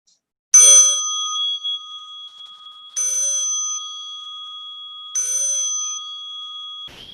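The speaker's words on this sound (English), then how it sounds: "As you listen to the bell" A meditation bell rings three times at slow, even intervals, each clear metallic strike followed by a long, pure ringing tone that fades gently in an otherwise silent room.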